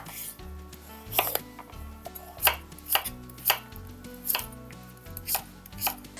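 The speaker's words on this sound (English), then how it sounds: "So now we got two beautiful pumpkin halves we can chop and roast." Knife chopping through peeled pumpkin halves on a board, a steady series of sharp, close thuds about once every second, heard alone without talk.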